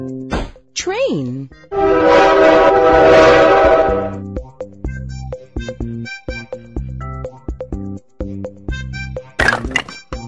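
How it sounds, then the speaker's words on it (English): A cartoon train sound effect from a kids' vehicle puzzle app: a loud blaring horn blast, then rhythmic clacking and thunking of wheels, with a sharp whistle-like burst near the end and a brief voice at the start. "Train."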